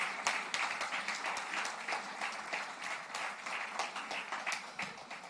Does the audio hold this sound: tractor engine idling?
no